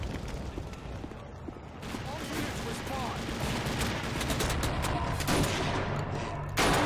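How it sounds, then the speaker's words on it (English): Rapid bursts of close gunfire from a shotgun in the first-person shooter TimeShift, dense and loud, with overlapping blasts over a noisy battle bed. "the shotgun is really deadly up close"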